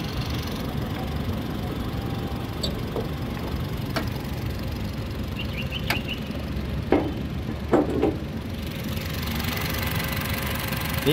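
A 2015 Honda Brio Satya E manual with a clean 1200 cc engine idles at a steady low hum, with a few faint clicks and knocks over the constant drone.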